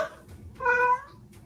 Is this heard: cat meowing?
yes